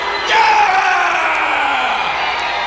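Concert crowd at a Christian rock and metal show screaming, yelling and whooping together in a dense, sustained roar that swells early and holds steady throughout.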